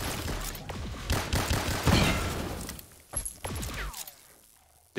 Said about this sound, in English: This death machine is terrible.